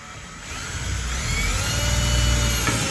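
A power drill bores a pilot hole through two stacked wooden cornhole boards. It makes a steady, close whine that swells after a brief start and holds strong to the end, with no voices.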